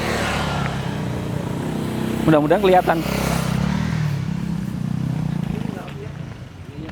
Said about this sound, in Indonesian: Tuh lihat, motor aja agak kesusahan nih.